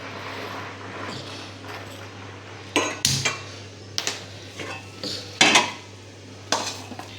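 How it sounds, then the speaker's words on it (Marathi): Semolina (rava) dry-roasting in a pan over a gas flame, with a spoon scraping and clinking against the metal in irregular bursts above a steady low hum; no talking. "आता आपण गॅस पेटवून रवा भाजून घेऊया"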